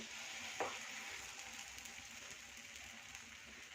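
Jackfruit holige sizzles faintly on a hot griddle, a steady hissing fry after a brief placing sound near the start, with no talk.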